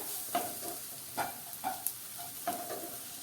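Spatula strokes stir a bell pepper (capsicum) curry in a pan. About five soft scraping strokes come at an uneven rhythm over a faint, steady sizzle, close up and with no voices.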